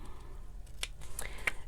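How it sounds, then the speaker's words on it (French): Two quick, crisp snips of scissors cutting paper during a winter folio craft project, close up and faint over a steady low room hum. "Alors, il faut y aller pareil avec le ciseau."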